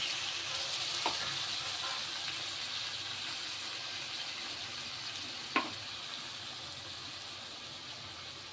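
Water poured into a pan of pomfret fish curry with fried onion and spices, giving a steady broad sizzle and bubbling hiss throughout, with a few faint clinks and one sharper knock partway through.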